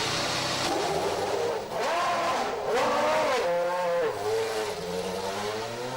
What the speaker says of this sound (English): Warm up the engine.